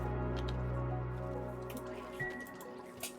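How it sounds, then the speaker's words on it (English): A soda machine running in the video game Oxygen Not Included: a steady electronic hum with bubbly, squishy liquid sounds and scattered drips on top, loud at first and then easing slightly, with no talking. "our soda machine's up and running"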